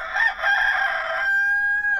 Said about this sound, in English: The cockerel,